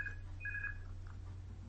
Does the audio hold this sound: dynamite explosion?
no